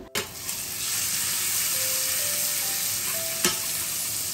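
Curry leaves and ginger-garlic paste go into hot oil in a pan, bursting into a sudden crackle that settles into a steady, even sizzle, with a light utensil tap near the end.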